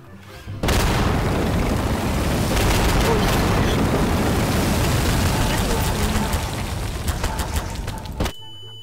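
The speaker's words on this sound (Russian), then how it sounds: "Эпический взрыв." A huge explosion in the video game Garry's Mod hits suddenly and loud, then roars on as a dense rumbling wall of blast and crackling debris for several seconds before cutting off abruptly.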